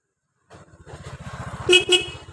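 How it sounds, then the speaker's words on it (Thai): A Honda CBR150i motorcycle's horn sounds in two loud, close blasts over the idling engine's steady putter. "โอ้โห แตรดังมากเลยครับอย่ากับแตรถยนต์น"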